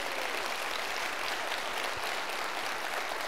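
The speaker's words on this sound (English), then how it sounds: "Now you can applaud." Dense, sustained applause from a large conference audience, a loud continuous wash of clapping filling the whole stretch without pause.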